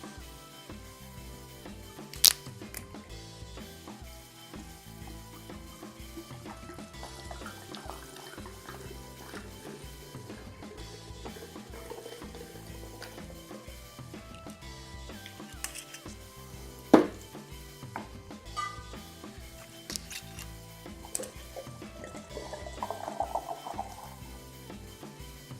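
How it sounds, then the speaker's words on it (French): Rum is poured over fruit in a 2-litre jar, a soft continuous trickle and gurgle of liquid with a few sharp clinks of glass, fairly quiet throughout and with no talking. "Et maintenant, on recouvre de rhum."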